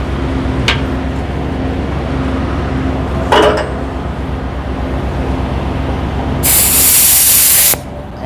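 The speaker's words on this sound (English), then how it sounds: "I'll go ahead and bring the air nozzle back here and do it before we pull up" An air nozzle blows compressed air onto a truck in one loud, forceful hiss lasting over a second, preceded by a couple of short bursts, over a constant idling engine rumble.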